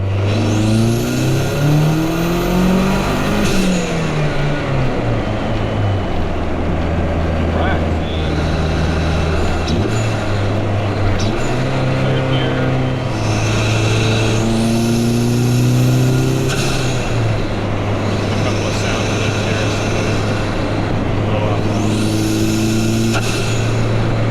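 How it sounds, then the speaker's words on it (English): A 2012 Mazdaspeed 3 engine revs and accelerates through several pulls, with whooshing releases from a Cork Sport dual VTA blow-off valve between gear changes; loud and close throughout. "We're gonna listen to some cool blow-off valve sounds and do a couple of pulls."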